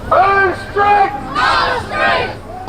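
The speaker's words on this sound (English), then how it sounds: "They're a loud crowd, but it's clear they're more noise than numbers." A loud protest crowd outside a facility housing asylum seekers, chanting in forceful rhythmic shouted bursts, four strong surges in under three seconds, close and dominant over a low background rumble.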